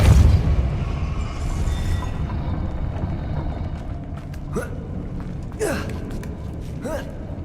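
A Depulso spell cast during Hogwarts Legacy gameplay gives a strong opening boom that settles into a dense magical rumble, with a few brief swooshing accents later on.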